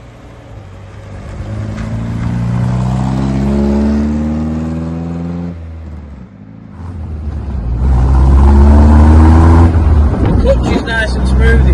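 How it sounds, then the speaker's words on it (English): A 1979 MG Midget sports car pulls up through the gears, with engine note rising in pitch, dropping at each gear change and climbing again. Loud and close, with no talk heard. "Nice and smooth, it's pulling well through all the gears, there's no jumper or anything."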